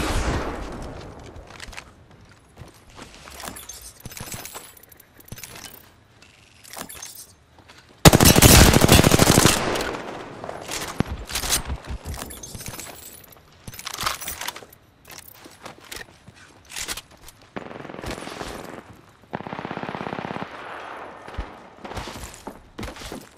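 Gunfire in Apex Legends: bursts of automatic weapon fire and single shots scattered across the stretch, one loud sustained burst partway through, with quieter clatter and footsteps between volleys.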